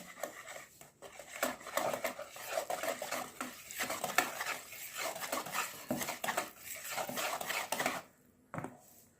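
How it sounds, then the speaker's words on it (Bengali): Eggless sponge cake batter made with milk powder being mixed by hand in a bowl, with steady scraping and tapping strokes running close and continuous for several seconds before stopping abruptly, with one short knock after. "এটাকে আমি ভালো করে মিশিয়ে নিচ্ছি"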